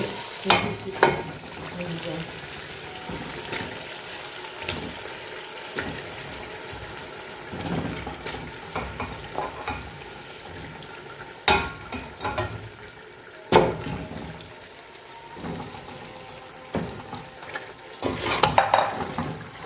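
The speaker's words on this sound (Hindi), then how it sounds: "अब इसमें हम जो है पाए वो डालेंगे भूनने के लिए" Goat paya (trotters) frying in an oily masala give off a continuous sizzle, broken by repeated scraping stirs and clanks of a ladle against the pot, loud and close, with no talking.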